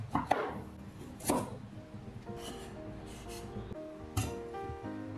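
A knife chops peeled sweet potato into small pieces on a board, giving a few sharp, close, irregular knocks separated by quieter scraping.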